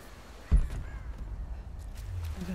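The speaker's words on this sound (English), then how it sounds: "Or just a couple crows." Crows cawing in the video game Rise of the Tomb Raider: a sharp caw near the start over a dull outdoor ambience, then faint distant calls, no speech.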